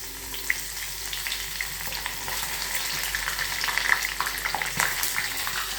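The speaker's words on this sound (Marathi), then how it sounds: "त्यात तळून घेते." Stuffed, hollowed-out eggplants fry in hot oil with a steady, close sizzle and light crackling pops, with no one talking.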